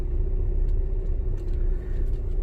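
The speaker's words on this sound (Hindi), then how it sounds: "मैं उसके पास लेके चलता हूं गाड़ी को।" A car engine rumbles steadily at low speed from inside the cabin as it is driven slowly toward a tractor, with a constant hum and a brief dip near the end.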